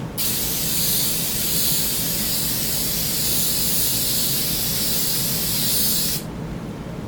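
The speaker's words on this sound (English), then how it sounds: "I'm just spraying a very, very, very light coat" A continuous hiss of aerosol spray from a can onto balsa wood for a strop, steady and close for about six seconds, then stopping abruptly.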